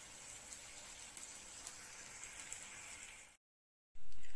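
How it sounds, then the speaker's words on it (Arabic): Water poured into a pot of rice, two cups of water per cup of rice, making a steady close rushing pour that runs for over three seconds, then cuts to silence before a louder burst. "حطيت له هنا الميه بتاعته على كل كوبايه رز كوبايتين ميه"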